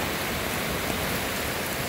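Flooded, swollen river rushing past, a loud continuous broadband roar of churning water heard up close with no voices.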